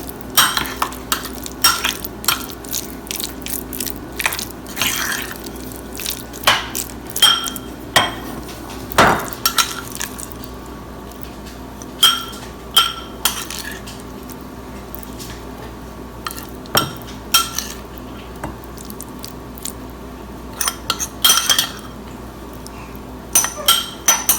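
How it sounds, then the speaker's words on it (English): Soaked dry fruits are stirred into plum cake batter in a bowl, with scattered clinks and scrapes of a utensil against the dish at an uneven pace throughout, close by and moderately loud, with no talking. "Now mix well soaked dry fruits well to the batter."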